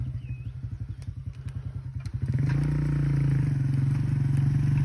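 A moped engine on a forest ride sputters in rapid rhythmic pulses, then revs up into a loud, steady drone close to the microphone.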